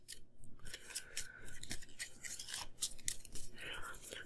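Brisk papery riffling and rustling, a deck of playing cards being shuffled close by in quick bursts during a Tanto Cuore board game, with soft clicks and no voices.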